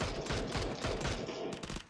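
Quieter, fairly distant volleys of rifle fire in a PUBG match, a steady rattle of shots running throughout.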